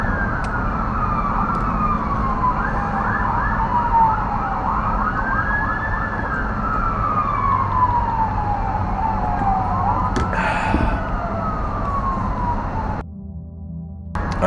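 Emergency vehicle sirens wail past on a street, rising and falling tones sweeping loudly over traffic rumble for most of the stretch before cutting off abruptly near the end.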